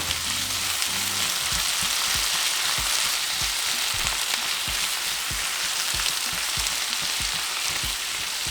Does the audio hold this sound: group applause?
no